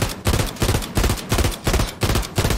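Automatic weapon fire in the video game Warzone, sprayed at a wall in rapid repeated bursts of loud, close gunshots with short gaps between strings of rounds.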